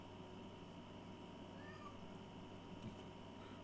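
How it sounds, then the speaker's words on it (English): A loud cat meows once, faint against a steady hum of background noise with no talking. "Can y'all hear him? He's a very loud kitty."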